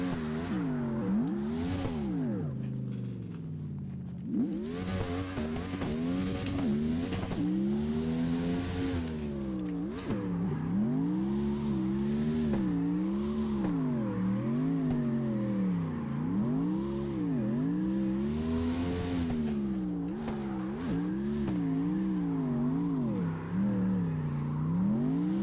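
Truck engine in the CarX Drift video game revs hard and continuously while drifting, its pitch swooping up and down in repeated waves with tire squeal, loud and close throughout.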